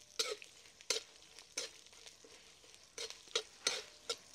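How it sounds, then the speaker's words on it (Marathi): Urad and chana dal with garlic dry roasting in a pan, heard as quiet, scattered scraping strokes of a spoon with faint rustling between them, about seven brief strokes. "लगेच हरभरा डाळ पण टाकून घेऊया। ती थोडीशी भाजून घेऊ।"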